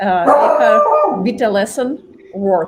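A pet dog howls and yips in drawn-out, wavering cries at close range, rising and falling in several bursts while a person talks over it.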